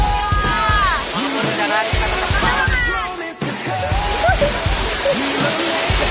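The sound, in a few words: water being poured over a person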